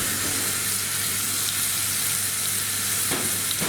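Onion frying in a pan for leek chicken masala, a steady broadband sizzle with a low hum beneath and a brief clink near the end, close and even.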